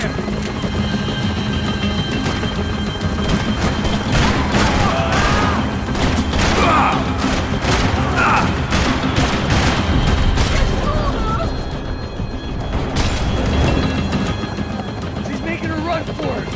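Gunfire and shooting in the Max Payne 3 video game during a chase, with rapid shots and a steady engine or rotor roar running throughout under shouted character dialogue.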